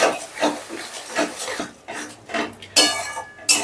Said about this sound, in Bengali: এবারে এই মশলাটাকে বেশ ভালো করে 5 থেকে 6 মিনিটের মতন কষে নেব,